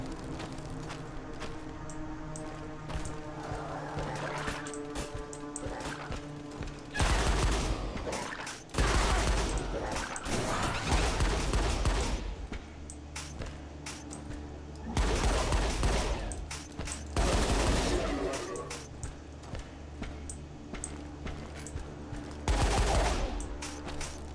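Bursts of shotgun fire in a video game ring out in several loud blasts over a steady backdrop of game music and ambience, with the shots clustering around repeated intervals.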